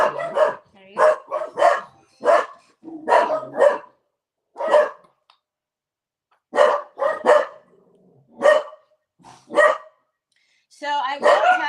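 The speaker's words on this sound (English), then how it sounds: "the dogs are barking" Dogs, one named Onyx, barking loudly and close by in a home craft room, a string of sharp barks in uneven bursts with brief pauses between volleys.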